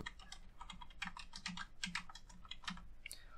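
Rapid keystrokes on a computer keyboard, close and steady, with no voices, as a topic about earning money online is typed for SEO keyword research.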